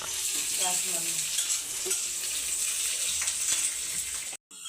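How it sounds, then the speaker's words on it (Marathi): Chili thecha fries in a pan, a close, steady sizzling hiss with light stirring scrapes, then a brief cutoff at the end. "आता मी फ्राय करून घेते"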